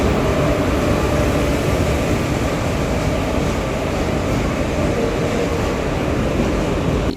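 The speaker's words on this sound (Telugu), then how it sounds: "మన ట్రైన్ ప్లాట్ఫామ్ నెంబర్ 2లోకి వస్తోంది." A Madurai-Trivandrum InterCity Express hauled by a WAP-4 electric locomotive arrives at platform 2, a loud, steady rumble and rolling roar from the train continuing unbroken with no voices.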